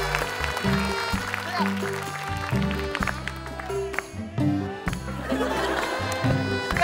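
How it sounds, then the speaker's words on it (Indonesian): An audience claps and cheers to welcome a comedian onto the stage at a televised comedy show, with steady applause mixed with crowd noise and music, while voices carry over it. "Kita sambut dengan tepuk tangan yang meriah."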